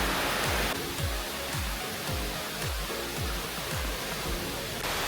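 Nagsarmingan Falls on Calayan pours with a steady broadband roar of rushing water, loud and continuous, with a regular low thumping underneath.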